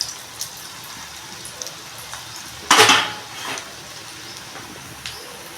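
Raw banana kofta balls dropped into hot oil for deep-frying, a low bubbling crackle punctuated by one loud splashing burst and scattered clinks of utensils.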